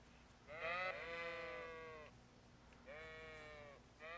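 Sheep bleat in the medieval role-playing game Kingdom Come: Deliverance, two drawn-out wavering bleats with a short pause between them, close and clear over a quiet hum.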